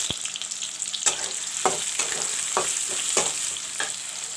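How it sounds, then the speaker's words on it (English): Sliced onions, four medium ones, sizzle and crackle as they drop into hot oil for a spicy soya chunk and potato curry, with a steady hiss broken by several sharp stirring scrapes and clinks. "Oil is turned hot. Now I'll put in the onions."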